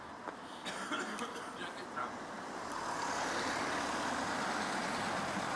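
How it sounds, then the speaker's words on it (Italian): Cars and heavier vehicles roll past on a city street in a steady, building roadway rumble that grows louder and fuller toward the end, with no clear talk over it. "Aspetta che passano le macchine."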